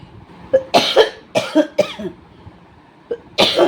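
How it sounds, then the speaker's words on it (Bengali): A person coughs close to the microphone in a string of loud, harsh bursts, three or four in quick succession, then a short pause before another cough. "দেখো কাশি হয়ে গেল"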